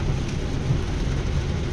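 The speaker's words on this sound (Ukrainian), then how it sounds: "Це тільки начало, дощ не закінчується." Heavy summer downpour with thunder in western Ukraine, flooding a vegetable garden: a steady, dense roar of rain with a deep rumble of thunder running underneath, close and continuous throughout.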